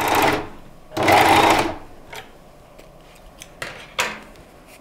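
A Veritas Melanie overlock sewing machine runs two short bursts while sewing a seam, a fast loud mechanical whirr, followed by quieter clicks and handling noises.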